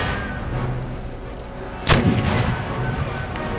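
Artillery fire strikes a building in the video game Empire: Total War during a battle for Madrid: one sharp, loud blast at about two seconds, followed by a rumbling tail over steady battle noise.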